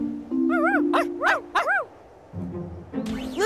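Cartoon puppies whimper and yip in a series of rising, whiny cries at a royal camping spot beside a camping van, several short high whines in quick succession with a steady hum beneath.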